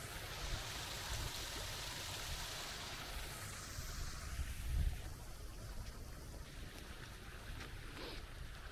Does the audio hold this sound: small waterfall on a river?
yes